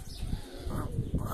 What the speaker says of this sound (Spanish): Una tórtola.